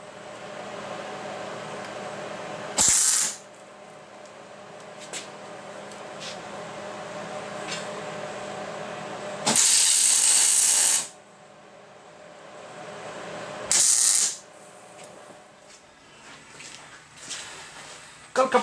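Tack welding on a Datsun 521 ball joint modification: three short bursts of loud crackling welding hiss, each a second or so long, stand out against a quiet workshop background.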